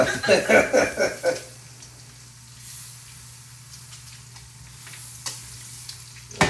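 Scallops hitting a hot, slightly warped pan, giving a burst of loud sizzling pops at the start that settles into a softer steady sear with a faint hum underneath.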